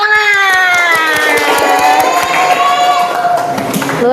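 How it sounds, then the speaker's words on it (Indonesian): Classroom audience of children cheering and shouting with rhythmic clapping at the start of student presentations, loud, lively voices rising over steady hand claps. "tepuk tangan"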